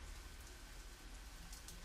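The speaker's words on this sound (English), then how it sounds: "And it's now raining." Steady rain hiss in the zombie survival game Zafehouse Diaries, an even, continuous wash of falling rain heard alone at a low level.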